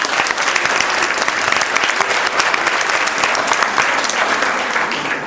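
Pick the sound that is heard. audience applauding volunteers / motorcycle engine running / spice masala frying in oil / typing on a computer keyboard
audience applauding volunteers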